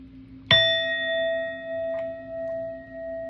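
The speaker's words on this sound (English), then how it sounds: "So we're going to hit this bell, we're going to cleanse these cards" A single bell struck once, ringing out in a clear metallic ding with a bright attack and a long, slowly fading sustained tone, close and alone over a quiet background.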